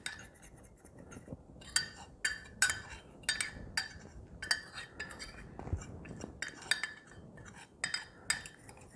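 A spoon mixing butter into keto mug cake batter in a mug gives repeated sharp clinks and scrapes against the sides, arriving in an irregular stirring rhythm, close and fairly quiet.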